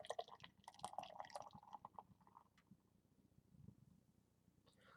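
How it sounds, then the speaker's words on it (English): NOLA Hopitoulas IPA is poured from a can or bottle into a glass, a faint, soft gurgle and splash over a few seconds that trails off into quiet. "Let's give it a pour"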